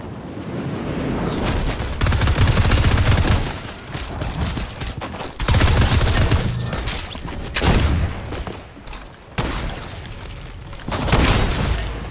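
A rapid-fire gun shoots in the video game Fortnite, sending loud, dense bursts of booming fire in several waves of a few seconds each, separated by short lulls, with no talking.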